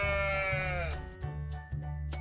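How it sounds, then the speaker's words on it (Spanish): A sheep gives a single clear bleat, wavering and falling in pitch for about a second, over a soft, steady musical backing in a children's animal-sounds lesson. "Este es el sonido que hace una oveja."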